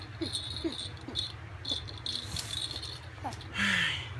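A baby shakes a new rattle toy, giving repeated close jingling rattles that end in a longer shake, with soft voices in the background.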